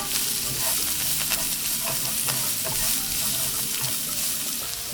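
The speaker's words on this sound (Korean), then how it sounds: "양파도 볶아줍니다." Onions stir-frying in a pan with carrots, a close, busy sizzle broken by frequent scraping and stirring strokes, steady throughout with no talk.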